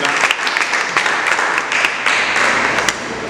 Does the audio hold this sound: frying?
no